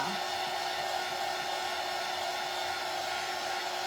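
A hair dryer blows steadily on a Dollar Tree lantern craft project, a constant even whoosh held close to the microphone with no pauses or talk.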